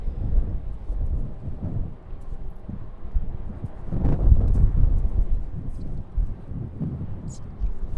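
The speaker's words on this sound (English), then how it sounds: "This wind is blowing all of my equipment around." Gusty outdoor wind buffeting the microphone beside an airport runway, a low continuous rumble that swells and fades, with a person talking over it.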